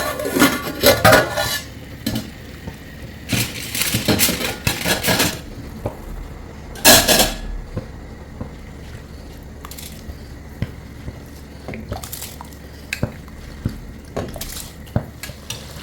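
A metal spoon scrapes and clinks against a pot of chicken biryani in several separate bursts, with quiet pauses and a few lighter taps between the stirring.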